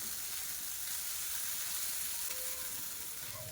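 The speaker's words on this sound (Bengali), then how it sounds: "স্লো টু মিডিয়াম ফ্লেমে সাবুদানাগুলো ভেজে নেব।" Sago pearls fry in ghee over a slow-to-medium flame, giving a faint, even, steady sizzle throughout with a light knock right at the end.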